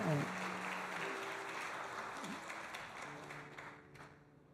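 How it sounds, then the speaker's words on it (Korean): A church congregation gives a round of applause to welcome a newcomer during a Sunday service, a dense, steady clapping that slowly tapers off while voices murmur underneath. "우리 큰 박수로 환영하겠습니다"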